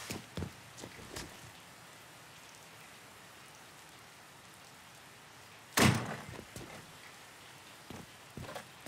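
Rain falls steadily in the Mafia III video game, a soft continuous patter, broken by a few light knocks and one sharp thud like a door slam midway.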